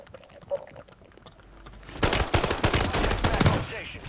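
Rapid video game gunfire erupts about halfway through a squad-based shooter match, a dense stream of loud, close bursts that follows a quieter stretch with a faint earlier shot.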